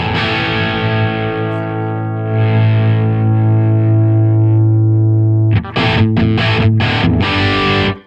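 Electric guitar played through an Orange Two-Stroke pedal, set for rock distortion with flat EQ, rings out as a loud sustained chord, then breaks into a run of choppy, staccato distorted stabs.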